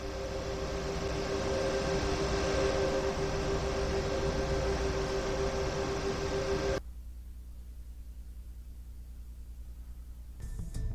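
A locomotive runs in Train Sim World 2020 on the Rhein Ruhr Osten route, a steady loud mechanical hum and rushing drone that abruptly cuts to a much quieter low rumble partway through.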